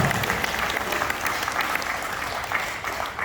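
An audience applauds a professor at a health talk, a dense, continuous round of clapping from many people at moderate distance, holding steady for about three seconds before easing slightly.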